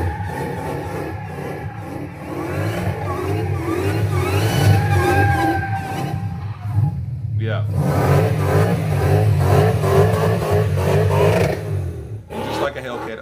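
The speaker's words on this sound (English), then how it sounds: "Sounds like a Hellcat to me." A Hellcat HEMI V8 swapped into a Nissan 350Z revs hard, a loud sustained engine roar rising and falling across several throttle blips, with a person talking over it.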